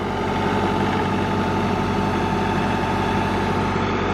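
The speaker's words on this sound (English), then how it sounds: "gets to use his tractor too at the forks" A tractor fitted with forks idles close by during a tree delivery, a loud, steady, low chugging drone with no breaks.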